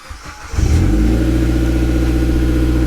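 A Mitsubishi Evo X engine cranks briefly, then catches after a timing chain rebuild and settles into a steady, loud idle close by.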